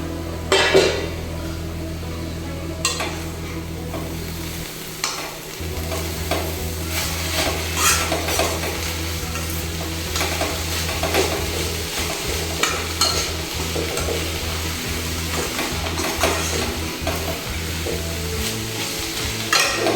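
Halim seeds cooking in ghee while being stirred, with repeated scraping and clinking of a spoon against the pan over a constant sizzle and a low background hum, close and busy throughout.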